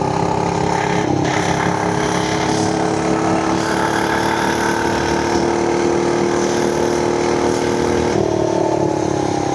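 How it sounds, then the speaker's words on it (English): An FRP GMB100 mini bike engine at full throttle on half a tank of gas, giving a loud, steady, close-up drone. Its pitch sags slightly toward the end and dips briefly twice. "we're gonna do a little full throttle on a half tank of gas"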